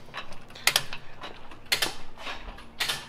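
Torque wrench tightening the lug nuts on a Mercedes-Benz W210 wagon's wheels, giving four separate clicking, ratcheting bursts spaced about a second apart, fairly close and alone with no talk.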